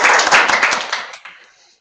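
A brief burst of clapping from an online meeting audience, picked up close through a microphone and fading out within under two seconds.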